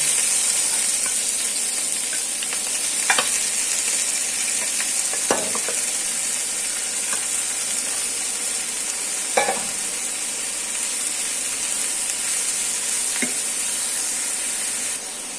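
Onion, garlic and dried chili fry in a pan with a constant, close sizzling hiss. A few sharp scrapes of stirring punctuate it at irregular intervals, and no one speaks.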